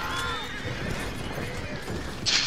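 A horse in the Red Dead video game gives a short, high whinny at the start, followed by a steady rumble of game background sound and a brief bright burst near the end.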